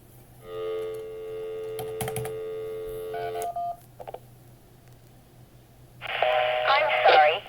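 A phone call over a simple SDR phone patch dials out with a steady tone, then a burst of quick touch-tone beeps and a few short tones, followed by a voice speaking, all clear and close.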